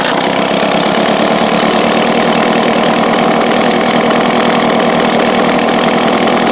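A small two-stroke engine runs steadily and loud throughout while its carburetor needle is moved in and out to show a bog problem, a dense buzzing drone with slight shifts in pitch and no talk.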